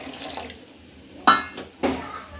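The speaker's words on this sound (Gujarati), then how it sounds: "આપણે પાણી એડ કરશું" About half a glass of water goes into a pan of spiced matar paneer masala with coriander-cumin powder, landing as two short close splashes over a quiet background.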